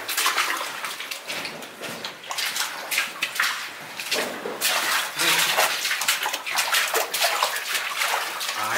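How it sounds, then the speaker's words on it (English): Water in the Paris catacombs splashes and sloshes loudly in irregular bursts as someone dives in, close by and with no talking. "did you dive in the water?"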